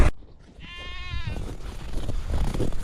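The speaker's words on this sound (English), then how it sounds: "How are the goats doing today?" Goats bleat on a farm in cold winter weather, a wavering, harmonic cry rising clearly after a brief pause, then giving way to a steady low outdoor rumble.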